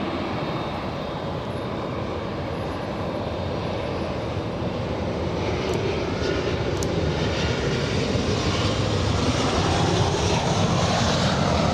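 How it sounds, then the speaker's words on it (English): Boeing 787 Dreamliner jet engines at Los Angeles International Airport, a broad continuous roar that holds steady and slowly swells louder, heard from a distance with no talking. "We'll stay with the Dreamliner. 787 Dreamliner."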